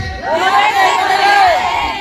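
Crowd of persons with disabilities at a political rally in Davao, cheering and shouting together in a loud, sustained roar with overlapping whoops, close and filling the scene.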